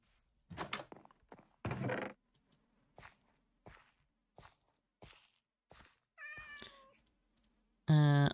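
A Minecraft cat gives two short meows, one midway and a louder one near the end, between soft footstep-like thuds and clicks in a quiet game scene.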